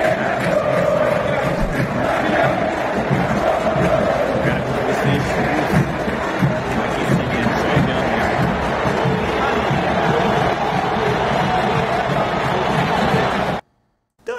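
A Paraguayan Supercopa football crowd in the stands shouts and chants, a dense, loud and continuous roar of many voices that ends abruptly with a short silence.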